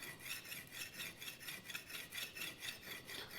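A knife blade is drawn by hand across a sharpening stone at an even angle, giving a steady, close scraping rasp that repeats in rhythmic strokes with no talk.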